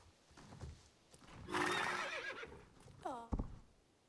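A horse whinnies and neighs near a campfire in the video game Star Stable Online, with a rising burst of breathy noise and then a clear, wavering neigh that ends in a thump like a hoof.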